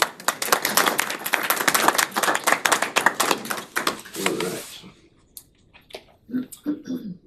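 A round of applause at a town council meeting, as a small group of people claps for several seconds with dense, uneven hand claps that fade out, followed by brief quiet and a few faint sounds.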